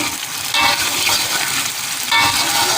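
Spices sautéing in hot oil for a beef rib soup give a steady, close, crackling sizzle that swells slightly partway through, with no talking.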